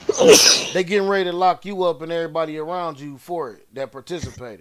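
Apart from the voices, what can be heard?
sneeze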